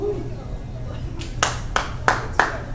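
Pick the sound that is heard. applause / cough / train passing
applause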